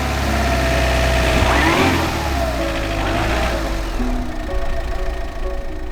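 A car stuck in a snowdrift behind a bridge revs hard and loud close by, the engine climbing and falling in pitch before settling into uneven idling and further smaller revs.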